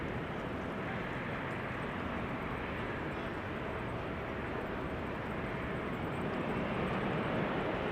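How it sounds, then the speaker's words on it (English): A Boeing 747 comes in to land at Amsterdam Schiphol, heard as a steady broad distant jet roar that holds constant and swells slightly toward the end. "In the background we have a 747 and we have the PHBVA"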